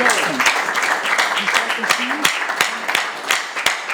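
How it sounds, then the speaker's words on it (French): A school contest audience gives a modest round of applause for the challengers, sparse, uneven claps spaced across the moment with voices talking over them in the room. "Est-ce qu'on va applaudir pour nos autres challengers?"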